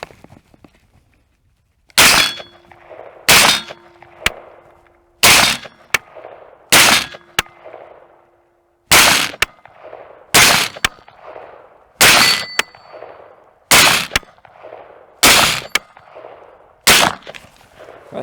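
A Colt SP1 rifle fires about thirteen loud, sharp single shots outdoors, each about a second apart with short pauses between them. Every crack is followed by a brief echoing tail, and no one speaks.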